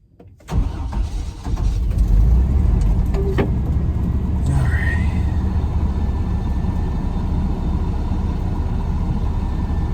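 An old $900 truck's engine starts and settles into a loud, steady idle as it warms up, close up and continuous with no talking.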